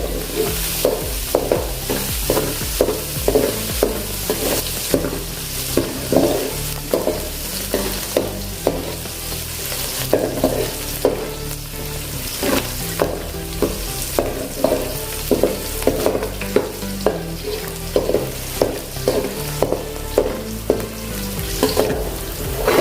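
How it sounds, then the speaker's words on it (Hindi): Green chillies frying in a pan for thin poha chivda, a continuous close sizzle punctuated by rapid, regular spoon scrapes and clinks as they are stirred, with no speech. "अभी इसमें हम हरी मिर्च डालेंगे। इसको भी अच्छे से भूनिए।"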